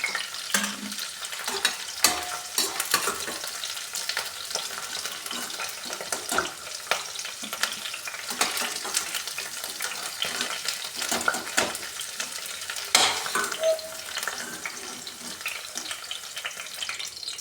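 Cauliflower frying in hot oil for a halwai-style gobi sabzi, a steady close sizzle with scattered stirring clinks and scrapes, broken by a brief splash of running water.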